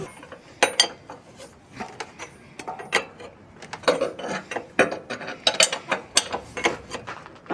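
A wrench ratchet loosening a 30 mm bolt, rapid clicking bursts of metal pawl teeth in uneven strokes, close and fairly loud with no talking.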